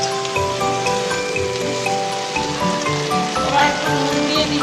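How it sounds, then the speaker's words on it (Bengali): Water lily stems are stirred in a hot pan, giving a continuous watery sizzle and steam hiss like steady rain, close and fairly loud throughout. "এবার দেখুন শাপলাগুলো আমি দিয়ে দিচ্ছি। এতে জল দিতেও লাগবে না, এটা এমনি জল বেরোবে। এইভাবে একটু নাড়াচাড়া করে নিয়ে"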